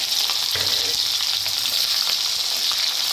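Capsicum hits hot oil in a pan while cooking a milk and paneer dish, a loud, continuous sizzle and bursts of crackling, a close and unbroken frying hiss with no speech.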